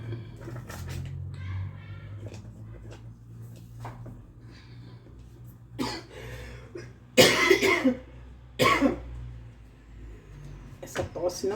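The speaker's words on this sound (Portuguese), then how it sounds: "Essa tosse não quer me largar." A woman coughs several times in short bursts while cooking sweet bread dough in a home kitchen, close and fairly loud, with quiet background rumble and brief talk between the coughs.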